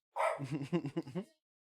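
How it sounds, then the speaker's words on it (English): A pet dog gives a quick burst of several sharp, fairly close barks in an uneven rhythm, then goes quiet. "Can somebody help me get my dog to stop barking at other dogs that are just walking by?"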